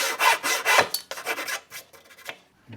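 Hand saw cutting a long angled wood joint along an existing kerf, a series of raspy back-and-forth strokes close by, strongest early and thinning toward the end.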